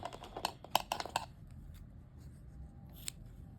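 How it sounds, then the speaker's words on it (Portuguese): Scissors snip through crochet yarn in a quick run of sharp, close clicks, then faint quiet with one more small click. "E agora, a gente pode cortar."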